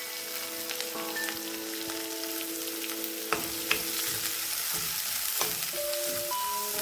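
Chopped onion fries with mustard seeds in hot oil while vermicelli upma is cooked, a dense, continuous crackling sizzle with scattered pops and stirring clicks, close and steady, with no talking.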